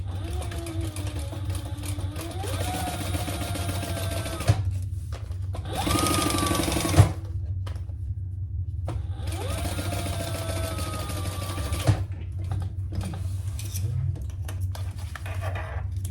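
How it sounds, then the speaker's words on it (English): Sewing machine basting fabric pieces together at a 1/8-inch seam while making an enlarged triple sling, running in two steady bursts with a short louder whirring pause between them. "And we're going to baste that in place."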